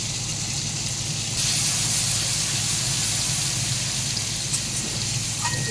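Tomatoes hit a hot pan of spices, ginger, garlic, onion and green chilli, giving a steady, loud hissing sizzle that brightens partway through and continues without break.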